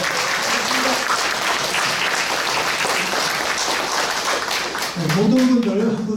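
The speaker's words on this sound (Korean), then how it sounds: "정 교수님께 박수 주시겠습니다" Symposium audience in a hall applauding a professor, a broad steady patter of many hands clapping at moderate distance, with a voice coming in over it near the end.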